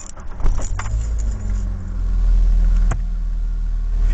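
A manual stick-shift car's engine is cranked over and starts, settling into a steady low idle that runs close and loud to the end, with a brief sharp click near the middle.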